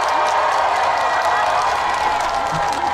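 An outdoor audience at a Busan ramen festival applauds a trot singer on stage, a dense, steady wash of clapping and light cheering that fills the whole stretch without pause.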